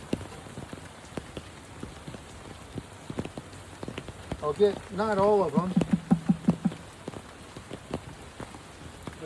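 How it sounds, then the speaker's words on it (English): Steady rain pattering on surfaces outdoors while honey bees are dumped into a new hive, with scattered drips throughout and a person talking briefly midway. "But it's been raining pretty well."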